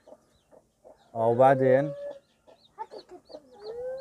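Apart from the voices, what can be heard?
hen clucking, mother of the chicks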